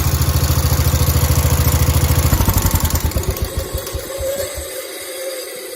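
A 1971 H1 140 tractor engine chugs loudly with its PTO engaged, a fast rhythmic putter that slows and winds down into separate thumps as it shuts off.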